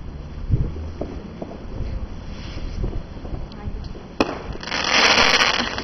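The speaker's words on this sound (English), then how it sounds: "there are fireworks going off everywhere" Fireworks going off outdoors on bonfire night, scattered pops and thumps around the neighbourhood, then a louder crackling burst near the end, with wind noise and a voice talking early on.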